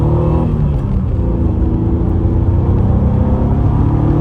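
A 1986 Renault Alpine GT Atmo engine growls loudly in a deep, continuous roar, revving steadily up close on a highway on-ramp with a strong low rumble and no speech.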